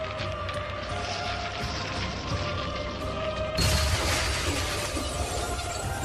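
Anime ice magic spell being frozen over: a steady crackling, glassy wash that breaks into a sudden, louder icy shattering burst midway, then keeps sizzling.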